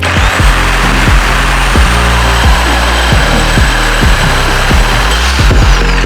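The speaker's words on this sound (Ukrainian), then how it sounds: "Встановили пилки по металу, не забуваємо вимкнути маятниковий хід і починаємо різати." Dnipro-M corded reciprocating saw with a metal-cutting blade and pendulum action off cuts through square metal stock, a loud, continuous buzzing motor with a rapid rhythmic stroke pulse and grinding rasp, close and alone.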